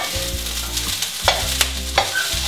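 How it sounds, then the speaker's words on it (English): Kale sizzles in a hot pan and is tossed again and again, a constant frying hiss broken by scraping stir strokes, with no talk. "The trick is to just keep tossing the kale while you cook it."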